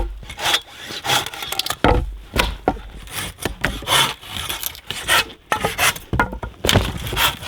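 Rhythmic back-and-forth strokes of a hand saw cutting through wood, close and fairly loud, with brief pauses between bursts.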